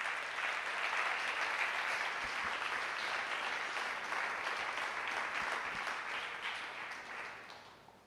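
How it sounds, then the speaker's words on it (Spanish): A church congregation applauds at the close of a Spanish-language evangelical service, with sustained dense clapping filling the room and slowly fading toward the end. "le damos un aplauso al Señor"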